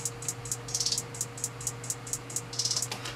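Hi-hat rolls tick steadily over a low sustained tone, with quick bursts of rapid rolled hits whose pitch drops gradually, crisp and moderately quiet.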